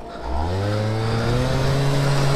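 A ZIP scooter revs up hard, the engine pitch climbing steadily from a low growl to a high, loud whine at close range, with no talk over it.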